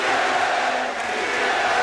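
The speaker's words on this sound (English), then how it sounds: "you hear the crowd is chanting to the Sixers, beat L.A." Boston Celtics fans in an arena roaring a loud, massed chant for the Philadelphia 76ers after a Game 7, a dense, sustained crowd wash with no clear breaks.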